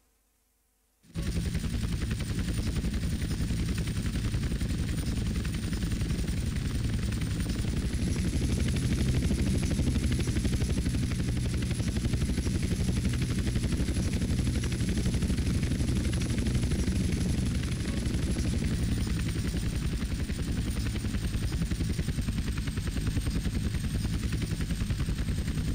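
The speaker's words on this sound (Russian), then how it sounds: "Посадка вертолета." A helicopter landing in GTA: San Andreas, a loud continuous rotor and engine roar that starts abruptly and holds steady for over twenty seconds with no talk.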